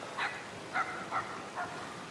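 A dog in the video game Somerville gives four short, sharp barks in quick irregular succession, moderately distant and alone over a low ambient hush.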